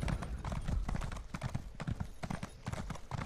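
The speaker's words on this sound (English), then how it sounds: "Yeah, I've got a fucking horse." Horse hooves clip-clop in a steady, rhythmic gallop in an Elder Scrolls video game, loud and continuous throughout, with a brief whinny and no talking.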